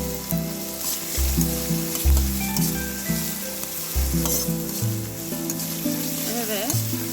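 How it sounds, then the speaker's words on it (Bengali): Garlic fries in hot soybean oil, a constant bright sizzle heard close up beneath steady background music. "এখন ভালো করে ভেজে নিচ্ছি বন্ধুরা।"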